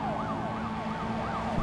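Police car sirens wailing in Need for Speed Most Wanted during a chase, a steady up-and-down siren cycle repeating over a low engine rumble, moderately loud and without talk.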